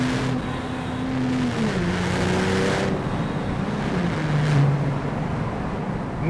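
Porsche 911 Turbo 997.1 with Mezger engine and Tiptronic transmission, engine note rising and falling as it downshifts through gears, revs sweeping audibly in a couple of steps under a steady road roar.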